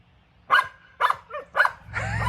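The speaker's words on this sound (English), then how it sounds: "These dogs went nuts." Several dogs bark excitedly in quick succession, four sharp loud yaps about half a second apart, with a short whimpering yip between them, then continuing agitated barking and rustling noise.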